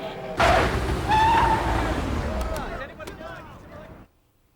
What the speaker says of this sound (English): The EMP has been detonated.